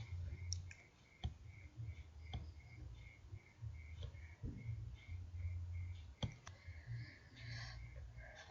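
Computer mouse clicks in statistics software: a few sharp, close single clicks spaced several seconds apart over a quiet room hum, with soft speech in between.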